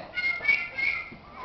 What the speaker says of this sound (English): she's going to make a more menacing sound on the flute